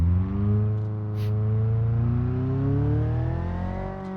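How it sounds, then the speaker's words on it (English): A manual car in BeamNG.Drive pulls away in first gear, its engine droning steadily and rising slowly in pitch as it accelerates, close and loud with no talking. "You turn on the car, you press in the clutch, you shift it into first, and you get on the gas and release the clutch."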